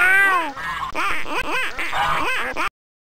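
A duck in the Ugly Duckling video game quacks several times in a row, loud and nasal, with rhythmic repeated calls that end in silence.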